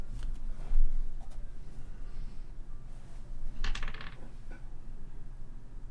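Dice rolled for a tabletop Dungeons and Dragons attack roll make a brief, bright clatter on a hard surface partway through, set against quiet room noise.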